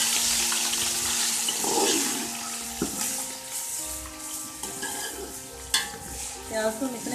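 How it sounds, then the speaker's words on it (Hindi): Ginger garlic paste stirred into browned onions in a hot pan for green chana pulao, a loud hiss and sizzle with scraping spoon strokes and a few sharp knocks, and some tonal background hum. "अब हम इसमें डाल देते हैं अदरक लहसुन का पेस्ट। और इसको मिक्स कर देते हैं।"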